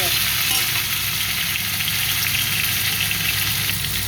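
Tomatoes dropped onto sautéed onions in a pan for a crab curry, sizzling loudly and steadily with a dense hiss throughout, no talk.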